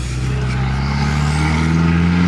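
An MK4 Volkswagen GTI, freshly revived and sitting lifted higher, drones steadily from the cabin on a first test drive, with a constant low engine hum and road rumble, close and loud, with no voices heard.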